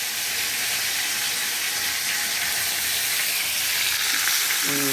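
Cinnamon and cloves fry in a little oil as the base for a goat leg gravy, a loud steady close sizzle and crackle that holds throughout, with a faint clink near the end.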